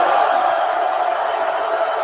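A crowd at a men's college basketball game between WSU and Pacific jeers a free throw shooter, a dense, steady roar of many voices from the arena stands that holds level throughout.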